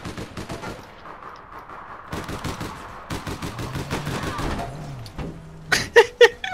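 Rapid bursts of video game gunfire crackle in quick sequences across the clip, with several louder separate shots near the end, mixed among background voices chattering.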